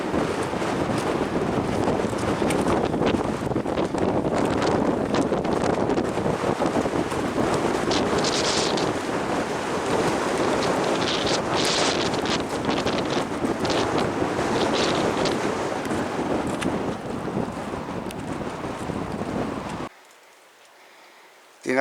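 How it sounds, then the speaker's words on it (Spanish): Strong east wind in Patagonia buffeting the microphone, a loud continuous roaring rush with gusty surges, cutting abruptly to near silence at the end. "El viento este de la Patagonia es muy fuerte"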